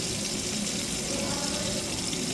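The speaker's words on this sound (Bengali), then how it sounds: "আগে মাছটাকে ধুয়ে নিলাম" Fish being washed under a running kitchen tap, a steady close rush of water without talk.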